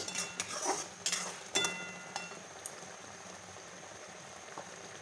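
An olive and elephant apple chutney simmers quietly in a pan, soft bubbling with a few sharp clinks and stirring scrapes early on, then settling into a faint steady boil.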